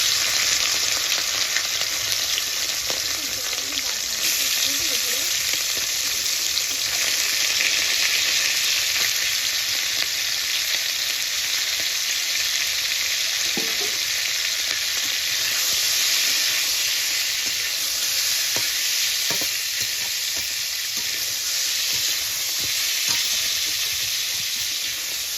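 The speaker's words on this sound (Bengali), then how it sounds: "মাংসটা আমি 3 থেকে 4 মিনিট ভেজে নেব।" Chicken pieces frying in hot ghee in a pan give off a steady, dense sizzle and hiss that runs unbroken and fairly loud, with no talking.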